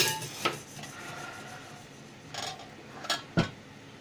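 The 2.7-litre inner cooking pot of a Panasonic SR-WA10 automatic rice cooker is handled, giving a few light metallic clinks and knocks, close and fairly quiet, with a louder clatter near the end and no talk.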